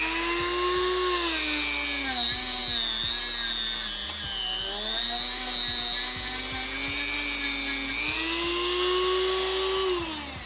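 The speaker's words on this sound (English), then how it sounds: "just take your Dremel tool and clean it up by doing the edge right in there" Dremel rotary tool grinding the edge of action figure armor, a steady high whine close by that dips and rises in pitch as the bit meets the material, with faint scraping under it.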